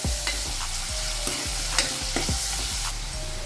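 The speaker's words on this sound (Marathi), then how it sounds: "आता हे कोळंबी हे व्यवस्थित या तेलात फ्राय करून घ्यायचे" Prawns fry in hot oil with a loud, continuous sizzle broken by regular scraping stirs of a spatula in the pan, no talk.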